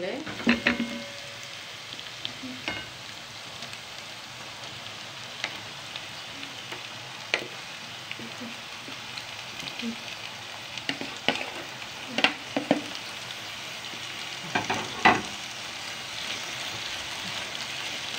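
Shawarma meat frying with onion in a pan, a steady soft sizzle close by with occasional sharper crackles and stirring clatters, no talk heard.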